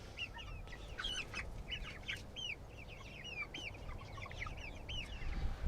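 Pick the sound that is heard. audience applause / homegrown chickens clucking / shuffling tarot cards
homegrown chickens clucking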